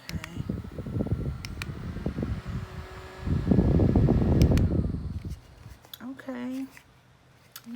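USB rechargeable mini fan blowing air to dry nail polish, a close breathy whoosh that rises and falls with buffeting gusts against the microphone, then fades as someone speaks.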